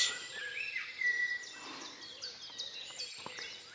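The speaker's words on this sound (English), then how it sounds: "accompanied by the singing birds" Birds sing in a forest at five in the early summer morning: faint, scattered chirps and short trills overlap at a distance over a quiet, airy background.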